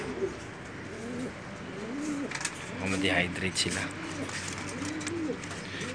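Pigeons coo in a loft in Dubai, their low, rolling calls repeating steadily under a man's speech, with a brief chirp midway and a constant background hum.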